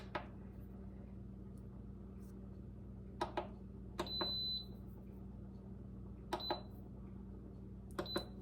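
An Instant Pot pressure cooker chirps with short, sharp electronic beeps in small clusters as its cook time is keyed in, each one crisp and close against a quiet kitchen hum, with a longer tone in the middle.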